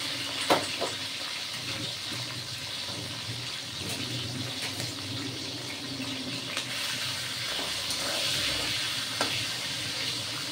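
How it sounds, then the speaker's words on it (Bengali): Tangra fish coated in salt and turmeric frying in hot oil in a pan, a steady loud sizzle throughout with occasional sharp pops and crackles close by. "দেখুন এই যে মাছ ছাড়ছি"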